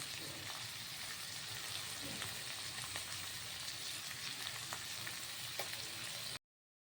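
Chopped onions and green chillies fry with turmeric in a pan as a steady, faint sizzle with occasional soft clicks, stopping abruptly at the end.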